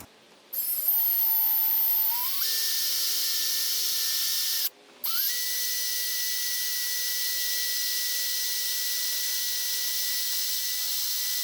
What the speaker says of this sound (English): That was a 1/4-inch drill bit, by the way.